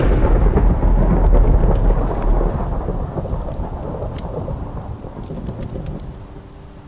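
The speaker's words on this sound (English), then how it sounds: "So that's what, 4 thunderstorms we've already been through." A thunderstorm in a block-building video game, with a loud rumbling thunder roll that slowly fades over a constant hiss of rain, crackles of drops continuing alone after the rumble dies away.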